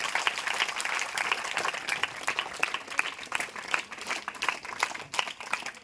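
A school audience applauds a local MLA's call for thanks, a dense, sustained round of clapping from many hands that carries evenly for about six seconds with no talk over it.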